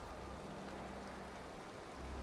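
Steady rain falling in the Valheim video game, a dense, even hiss of drops that holds constant throughout with no voices over it.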